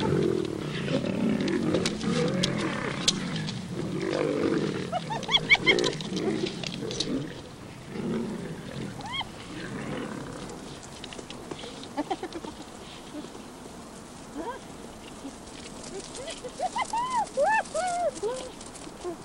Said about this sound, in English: There's rivalry between males too, but although there's a lot of noise